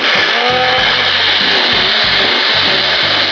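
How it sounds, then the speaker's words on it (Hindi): A mixer grinder blends pizza sauce ingredients, including seasoning, with a loud, continuous, high-pitched whirring motor that runs unbroken for the whole stretch. No talking. "ये वाला मिक्सर बहुत अच्छा रहता है"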